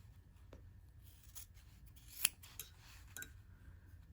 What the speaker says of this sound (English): So I just trimmed off my corners.